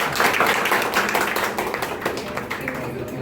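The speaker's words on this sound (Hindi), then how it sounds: "Please थोड़ा जोर से तालियां बजाइए." An audience claps at a Labour Day celebration at a maritime institute, a dense burst of hand claps that stays fairly loud, then thins a little toward the end.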